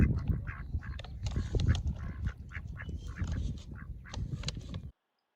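American coots and ducks flock together around food, their honks, quacks and clucks overlapping in a busy, close chorus that continues without pause and then cuts off abruptly.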